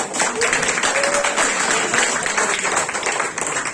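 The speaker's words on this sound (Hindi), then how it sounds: "इनके लिए ताली नहीं होना चाहिए।" Audience applause at a DXN business gathering in Sharjah, a dense continuous wash of many hands clapping that holds steady from start to finish, fairly close and loud, with a faint voice tone briefly mixed in.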